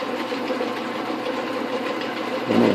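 An Atlas QC42 lathe runs with a steady mechanical whir and light rattling, close and even throughout, rising briefly in a louder grinding burst near the end.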